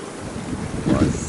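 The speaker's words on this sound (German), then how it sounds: "Herrlich gesegelt. Wind von hinten, kleine Welle." Steady wind rushes over the microphone while water washes past a sailing boat running downwind in small waves off Curaçao, with a gust swelling near the end.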